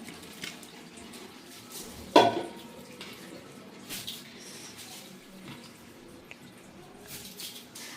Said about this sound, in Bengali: এখন এর মধ্যে দিয়ে দেবো এই যে চাল আর ডাল